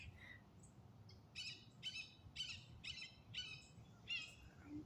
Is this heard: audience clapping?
no